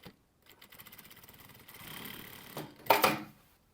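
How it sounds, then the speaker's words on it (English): A sewing machine edge stitches close to a folded fabric edge on a ruched top, starting with soft ticking, building to a steady close whir, then a couple of louder clunks before it stops. "Now we want to edge stitch this down, so we're going to sew very close to the folded edge."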